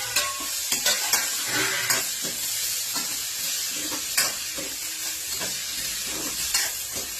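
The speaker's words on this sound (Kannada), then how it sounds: "ಈಗ ಟೊಮೆಟೊ ಹಾಕ್ತೀನಿ." Tomato tossed into a pan of softened frying onion for a stuffed bitter gourd gravy sets off a steady close sizzle, with spoon stirring and scraping clicks against the pan.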